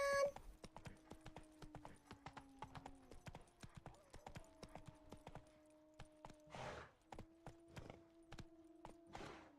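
Roach, Geralt's horse in The Witcher 3, trots along with a steady, quick clip-clop of hooves, close and clear, with a faint whinny-like tone running underneath and a few louder thumps.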